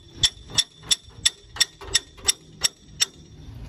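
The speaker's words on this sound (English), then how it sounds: "I use a hammer and I pound it over" A hammer pounds a bent metal jack handle in nine sharp, evenly spaced metallic strikes, each ringing briefly before the next, close and loud with no talking.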